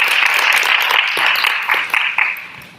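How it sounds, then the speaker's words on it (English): A room of listeners at Howard University applauds its guests, a dense burst of clapping with a few sharper individual claps standing out as it tapers off toward the end. "Let's give another round of applause to our guests."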